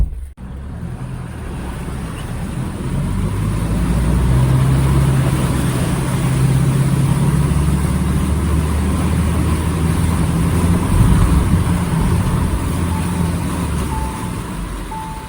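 A vehicle engine idling steadily in a flooded street in Bhagalpur, with water in the exhaust, a loud continuous low rumble that builds after a brief quiet start and holds evenly.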